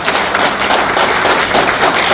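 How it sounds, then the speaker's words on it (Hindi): An audience applauds at a chamber of commerce annual general meeting, a dense, steady wash of clapping filling the hall without pause. "तालियां तो सही है"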